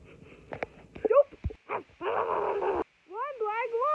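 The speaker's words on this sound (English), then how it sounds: "Plagg, you know the dog right behind you." A cartoon dog makes a series of short whimpering yelps and whines, some rising and bending in pitch, with a brief noisy burst between them; the sounds are close and fairly loud against a quiet background.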